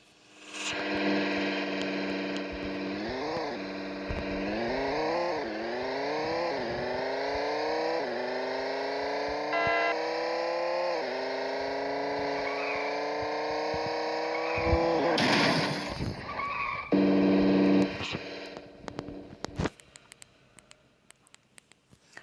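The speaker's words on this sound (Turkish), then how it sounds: "biraz sonra arabanın sesini göstereceğim size." A Traffic Racer video game car engine revs up in repeated rising pulls, loud and steady, followed by a brief harsh burst near the end and a few scattered clicks.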